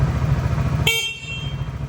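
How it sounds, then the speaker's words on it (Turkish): A Voge R125 motorcycle's horn blares once, loud and close, over the steady low rumble of its idling 125cc water-cooled engine. "normal motosiklet kornası mevcut"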